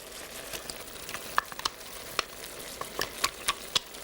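Crème fraîche is scraped out of its carton in a home kitchen: a handful of quiet, short scrapes and soft taps arrive irregularly, close by and faint, with no talking.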